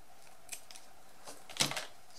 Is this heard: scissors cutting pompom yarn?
yes